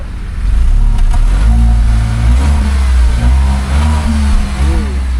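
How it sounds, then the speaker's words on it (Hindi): A Tata Nexon facelift at night is revved, its exhaust giving a loud, close, deep engine drone that rises and falls with a couple of revving pulses. "एग्जॉस्ट कैसा साउंड आता है इसका वो भी आप सुन लो।"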